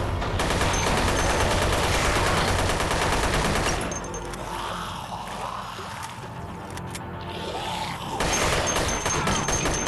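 Gunfire from a gun on single fire in the Dead Effect 2 video game: a loud, dense stretch of shots fades into a quieter, murkier lull midway, then surges back to full intensity near the end.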